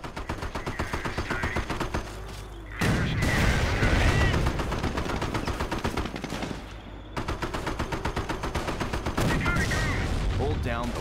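Rapid gunfire and heavy cannon blasts from a Sherman tank battle in the Company of Heroes video game, with steady machine-gun rattle throughout and louder booming bursts around the middle, dense and continuous.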